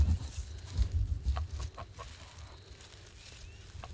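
Sebastopol geese on a homestead honking and calling in a short cluster of repeated notes, fairly close, with low rumbling background noise underneath and quieter scattered calls trailing off.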